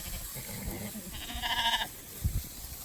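A sheep bleats once, a brief wavering cry in the middle, while a flock is herded fast across open ground, with low rustling and movement noise around it.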